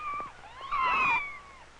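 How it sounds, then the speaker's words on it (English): A young kitten meows in short, high tonal calls, several cries in a row, close and fairly loud, with a louder drawn-out cry in the middle and no talking. "The kittens are getting milk from their mother."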